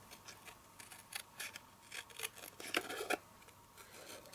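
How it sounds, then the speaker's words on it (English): Scissors cutting freehand through cardstock, giving a series of close, crisp snipping and rasping cuts in uneven bursts, fairly quiet and with no talking. "Pop that onto your piece of crumb cake cardstock and just cut by freehand,"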